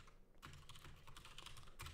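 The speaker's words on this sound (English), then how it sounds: "I'm going to slow this way down by typing in this command" Typing on a computer keyboard to enter a command in Minecraft, a quiet, close run of irregular key clicks in quick bursts, with no talking.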